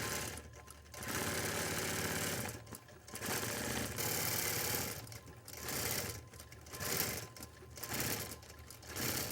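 A quilting machine stitches through a quilt in long steady runs of rapid mechanical chatter, pausing briefly between passes, close and fairly loud.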